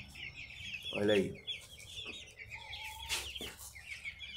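Twenty-three-day-old chicks peep in high, repeated chirps near the listener, with a soft clucking call among them and a brief human voice.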